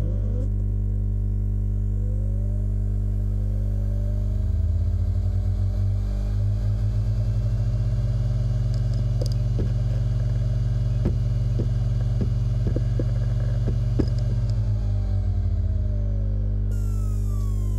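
A hard drive in a docking station spins up to a low motor hum that rises and holds steady for about ten seconds, with faint clicks from the drive, then winds back down to the background hum.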